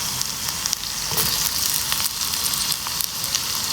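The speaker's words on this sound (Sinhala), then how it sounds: "කුරුඳු පුත්තුකුයි උළුවහල් චුට්ටකුයි තෙලට දාගත්තා." Cinnamon sticks and a little fenugreek fry in oil for a meatball curry, a steady bright sizzle with fine crackling pops that stays close and even throughout.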